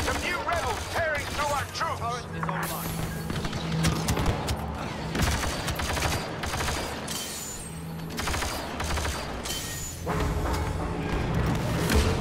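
Blaster gunfire in Star Wars Battlefront II, rapid repeated shots and fusillades over dense battle noise and music, continuous and loud throughout.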